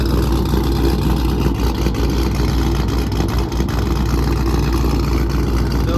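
A supercharged R/T car engine runs loud and steady with a deep low rumble, idling close by throughout with slight revving swells and no voices.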